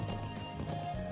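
Horse in Trails of Cold Steel, with quick clip-clop hoofbeats and a short whinny over a steady game music backdrop.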